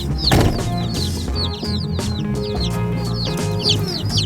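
Baby chicks peep in a shipping box picked up from the post office, many high, rapid chirps overlapping continuously over a steady low hum.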